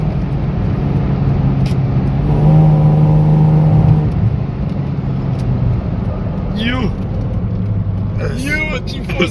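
A 1995 Ford Mustang SN95 fitted with a cold air intake accelerates hard with wheel spin, its engine drone rising and holding steady and loud close by, with faint tire chirps and voices heard near the end.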